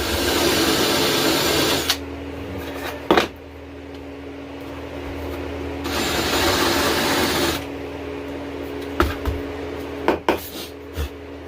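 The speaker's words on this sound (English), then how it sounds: "I'm just going to countersink it." Small wooden cutting board countersunk with a power drill, two sustained whirring runs of about two seconds each, separated by pauses, then a few clunks and knocks of handling, close by with no talk.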